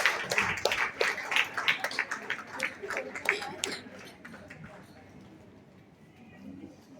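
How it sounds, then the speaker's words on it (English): Clapping from an audience at a school annual function, honouring a student, a fairly dense round of hand claps that thins out and fades after a few seconds, with voices underneath. "A big round of applause for Unnati."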